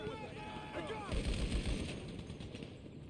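Gunfire from the video game GTA 5 crackles as a cluster of bursts in the middle, with voices talking over the game audio before and during the shots.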